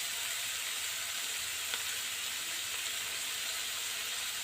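Chopped green capsicum sizzling in oil in a pan, a steady, close frying hiss that holds evenly throughout with no talking.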